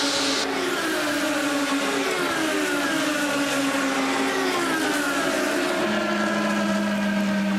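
A 2009 IndyCar race car engine roars loudly and steadily from an onboard position while entering pit road at Homestead, its pitch sweeping down and shifting through gears with no voices over it.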